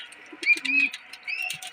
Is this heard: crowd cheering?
no